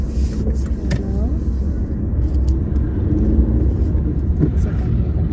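A car pulling away after a shift from first into second gear, with a steady engine rumble and road noise from inside the cabin.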